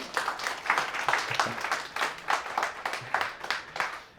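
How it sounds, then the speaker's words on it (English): Scattered, moderately quiet clapping from a small audience at a Shopify meetup, individual claps distinct and irregular, with no talking over them. "a little round of applause for Socialite, Merchant Mastery"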